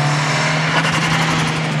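Turbocharged rally car with over 400 horsepower holds a loud, steady engine note with a slight rise in revs, close by and continuous.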